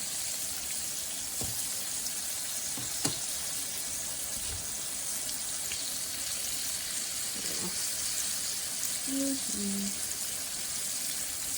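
Green tomato slices fry in a pan, giving a steady soft sizzling hiss throughout, with a few faint knocks and a brief quiet voice near the end.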